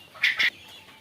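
Tithi jungle chickens on a farm in Bakshiganj, Jamalpur, give two short, close clucks in quick succession, followed by quiet.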